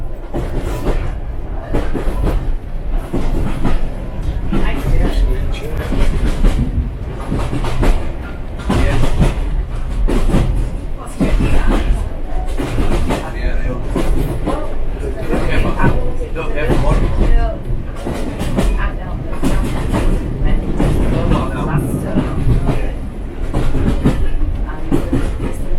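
Heritage steam railway train wheels clatter steadily on the rails with a constant rolling rumble on the Gloucestershire Warwickshire Railway, while someone talks over the noise throughout.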